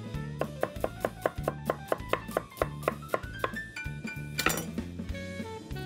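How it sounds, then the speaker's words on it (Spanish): A chef's onion knife julienne-cuts vegetables for corvina ceviche on a board, in a fast, even run of sharp taps with faint ringing clinks, close and clear. "En juliana, voy a coger el cuchillo cebollero"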